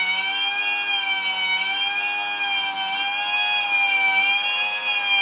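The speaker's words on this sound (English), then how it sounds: "what you just heard is the actual sound that the siren makes" A steady electronic siren tone drones from a Palitoy Action Man emergency fire tender toy, a continuous high whine with little variation, close and alone.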